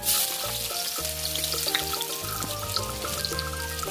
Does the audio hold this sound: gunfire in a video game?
no